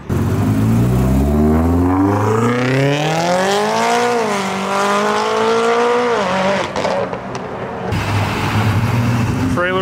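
Hyundai Tiburon accelerating hard away from a car meet, its engine climbing steadily in pitch through the revs, then dropping at a shift before fading, loud and close with crowd voices over it.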